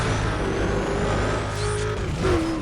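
Traffic cars in the racing game Need for Speed: Undercover make a steady, close engine and road roar with a rising whine, constant and loud throughout with no talk.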